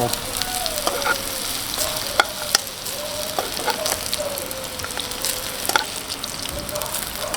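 Food fries in hot oil with a continuous close crackling sizzle and scattered sharp pops. Occasional utensil taps and stirring noises sound throughout.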